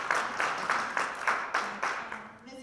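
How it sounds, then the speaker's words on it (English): A small audience at a school district board meeting gives a short round of applause, with soft clapping in rhythmic pulses that fades within a few seconds. "And then, yes, round of applause."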